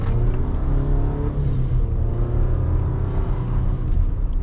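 A car drives along the road, its engine and tyre rumble heard steadily from inside at close range, with a few slight swells like gentle acceleration.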